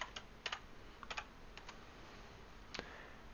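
Someone types on a computer keyboard, a few quiet key clicks falling in short irregular bursts, alone and close.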